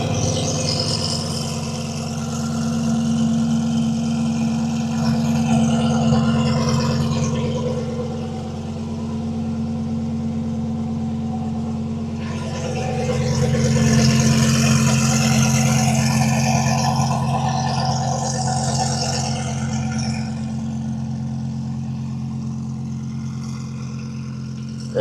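Twin-turbo Audi R8 engines idling at an outdoor street car meet with drag racing, a steady low rumble holding throughout with a swell of revving in the middle, loud and close.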